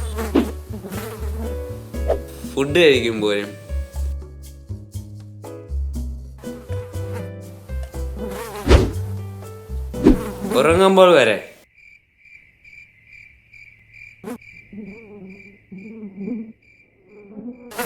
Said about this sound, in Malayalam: നിങ്ങളെ വീട്ടിൽ ഈച്ചയുടെ ശല്യമുണ്ടോ?